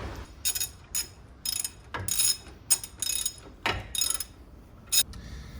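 Wrench and bolt work on a car's coilover camber bolts, a series of sharp metallic ratchet clicks in short bursts with pauses between, close by and clear with no talking.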